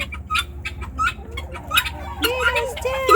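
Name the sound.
chickens clucking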